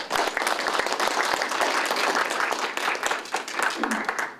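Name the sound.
audience applause at ceremony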